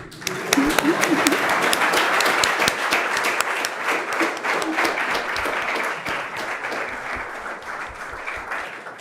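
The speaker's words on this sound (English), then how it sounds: "Let's keep clapping." A crowd keeps applauding Kenyan President William Ruto at Carnegie Mellon, a full wash of close clapping that holds strong and then thins slightly toward the end, with a voice briefly audible early on.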